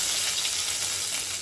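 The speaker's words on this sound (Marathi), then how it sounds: "लसूण आणि कढीपत्ता टाकलेला आहे।" Garlic and curry leaves sizzle steadily in hot oil for a tempering, a loud, even crackling hiss heard up close without a break and with no voices.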